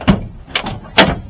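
The door of a 1974 Dodge Challenger project car, stuck against a replacement fender, gives a sharp metallic clunk, a softer rattle and then a louder latch click, all close by in quick succession.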